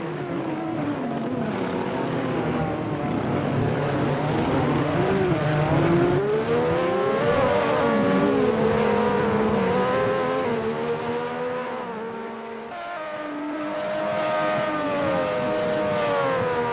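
Race car engines roar steadily during an endurance race, with several cars overlapping in a loud, continuous drone that rises and falls in pitch as they accelerate and pass.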